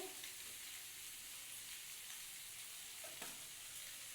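Steady, dense sizzling of spices, including roasted cumin powder, frying in hot mustard oil, a continuous crackling hiss with occasional sharper pops, close by and unbroken.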